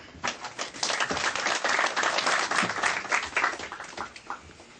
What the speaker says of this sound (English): So maybe we can welcome him with a round of applause.